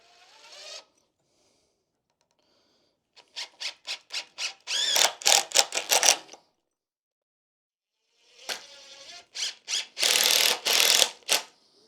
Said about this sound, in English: we'll put our 3-inch screws in here